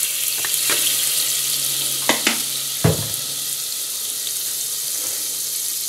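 Bratenfett in einem Topf, rendered as cooking fat for a Knorr Hack Reis Topf with minced meat, gives off a loud, steady broadband sizzle with a few sharp clatters of utensils against the pot, close up.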